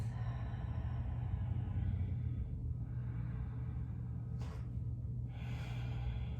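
Slow breathing during a yoga pose: a soft, drawn-out breath that rises and fades, then a sharper inhale near the end, all faint under a steady low room rumble.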